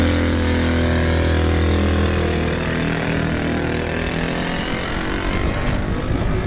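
A Shell Eco-Marathon prototype car's small engine runs loud and close, a steady buzzing drone that holds at one level before shifting into a rougher, fluttering roar.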